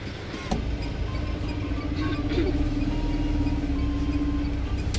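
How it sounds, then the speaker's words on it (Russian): Interior of a marshrutka minibus in Yalta, a steady low engine rumble and road noise with a faint rising whine and occasional rattles, no voices. "Сейчас проедемся в маршрутке"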